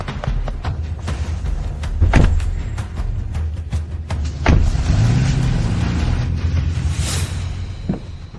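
Inside and around a car as people get in: car doors thump and a motor hums steadily, with sharp knocks and a rising whir near the end. Nobody speaks.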